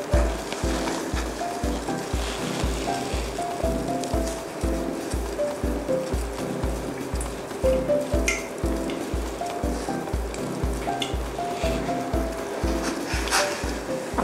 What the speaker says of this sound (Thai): ตอนนี้น้ำของเราก็เดือดแล้วนะคะเดี๋ยวเราก็จะใส่เครื่องลงไป